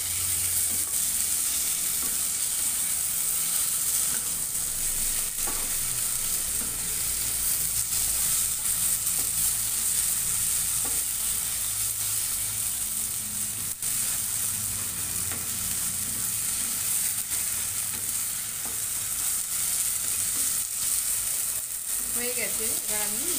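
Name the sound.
pumpkin and green chilli frying in a pan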